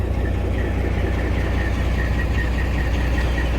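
A 2000 International Eagle 9200 with a Detroit 60 Series 12.7 engine runs with its cracked exhaust removed, giving a loud, raw, steady rumble with rapid knocking pulses throughout and no talk.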